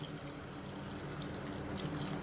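Water pours steadily into a cooking pot for biryani, a soft, continuous splashing trickle heard alone at low volume.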